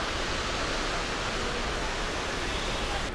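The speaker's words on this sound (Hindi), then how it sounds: "तो ये कैंपटी फॉल था यहाँ पर नीचे," Kempty Falls in Mussoorie sends a constant, full roar of crashing water, steady and loud with no pauses and no speech over it.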